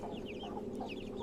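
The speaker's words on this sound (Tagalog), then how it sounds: "Ganyan po kaganda tong mga sisiw na to." Young chicks of giant breeds such as Shamo and Indio Gigante cluck and peep continuously, several birds chirping close together in a busy, steady chorus.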